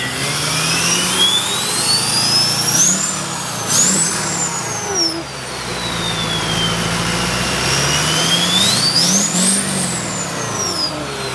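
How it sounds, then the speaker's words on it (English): A twin-turbo Duramax diesel truck engine revs repeatedly nearby outdoors, its turbos whistling up and down in rising and falling whines over a loud, rumbling idle. "Are you gonna go rip it or are you just gonna start it up and rev it for us?"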